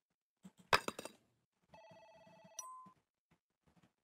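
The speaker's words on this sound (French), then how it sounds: "Téléphone qui sonne." A telephone rings in the Suicide Guy video game: a brief electronic ring tone comes after a few soft clicks and thuds, all quiet.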